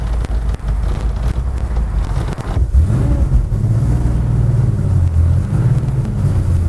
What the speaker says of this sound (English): Listen to that motor, that's just gorgeous,